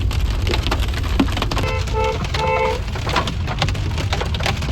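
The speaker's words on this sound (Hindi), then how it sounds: "यहाँ पे भी ओले तो बहुत पड़ रहे हैं, मोटे मोटे ओले हैं" Large hailstones hammering a car on a mountain road near Chopta, a dense loud continuous clatter of hard impacts, heard alone without talk.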